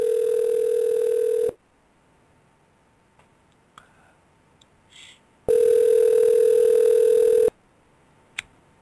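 Telephone call tones sound loud and close: a steady two-second tone, then several seconds of near silence with faint clicks, then a second matching two-second tone and a final click.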